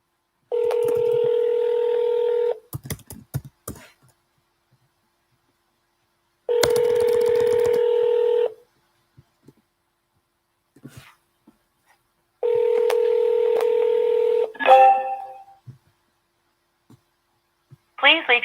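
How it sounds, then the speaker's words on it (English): An auto-dialer phone line dialing numbers. Three long, steady electronic tone bursts are separated by pauses and scattered clicks, with brief faint voice fragments near the end. "when the dialer is just dialing and dialing and dialing"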